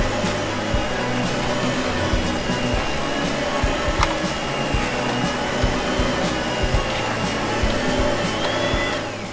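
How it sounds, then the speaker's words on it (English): A toy vacuum cleaner runs with a steady, loud whirring drone that holds for the whole stretch, its motor whine rising slightly and then dropping away near the end. "And yeah, a vacuum."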